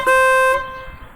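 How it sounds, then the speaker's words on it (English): An aftermarket horn on a Yamaha V Star 1300 Deluxe motorcycle, honked with the engine off: one loud, bright, half-second blast that cuts off abruptly, with a short ring afterward. "I wonder if I can honk the horn without the bike on."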